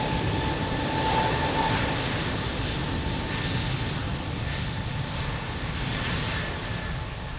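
A fixed-wing airliner taking off from runway 02 at Lisbon Airport, a steady, broad engine roar that holds loud and constant throughout.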